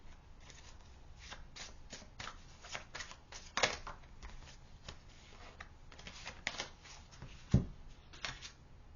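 Tarot cards are shuffled by hand close by, with soft repeated riffling and sliding flicks and a couple of sharper snaps, quiet and without talk.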